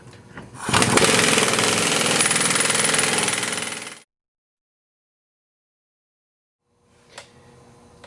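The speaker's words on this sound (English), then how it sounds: "Don't be surprised if it's 10 or 15 minutes of hitting it with an impact, hitting it with a hammer" Loud, continuous rattling of an impact wrench hammering at an Audi A4 rear wheel bearing for a few seconds, then it cuts off; after a silence, a single sharp metallic hammer hit and faint clatter.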